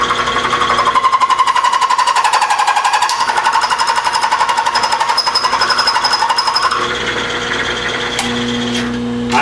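A Bridgeport mill bores a gear on slow manual down-feed, giving a loud, rapid rhythmic chatter with a sustained high tonal whine that drops and softens near the end, close up with no talking.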